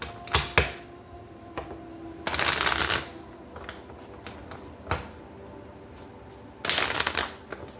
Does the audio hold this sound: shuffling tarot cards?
yes